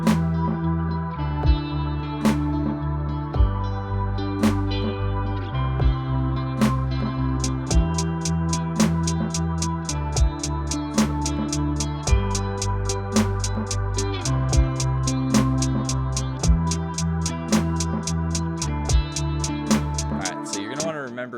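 A synth bass line in Logic plays at a slowed half-note feel, with long, steady low notes that shift pitch every couple of seconds under a regular ticking percussion pattern.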